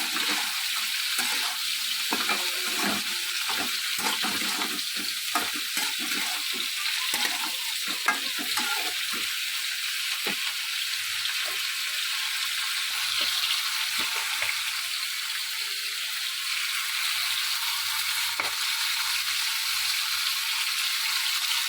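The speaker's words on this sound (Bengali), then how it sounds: "মাছগুলো ভাজা হয়ে গেছে।" Fish pieces fry in hot oil with a continuous, close, bright sizzle, broken by frequent clicks and scrapes of stirring or turning throughout the long stretch.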